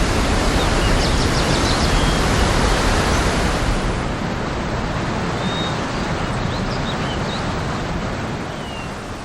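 Takakkaw Falls in Yoho, Canada, a 254-meter drop carrying up to 4,000 liters a second toward the Yoho River, roars as a loud, unbroken wall of rushing water that eases slightly toward the end.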